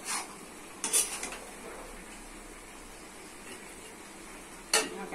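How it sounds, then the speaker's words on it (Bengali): Amaranth stems and potatoes with spices are stir-fried in a pan. A spatula clinks and scrapes against the metal in a couple of brief bursts, near the start and end, over a quiet low background. "ভালো করে কষে নিতে হবে ডাঁটা আলু।"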